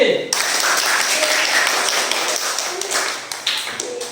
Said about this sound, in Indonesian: Coba tepuk tangan untuk kelompok C.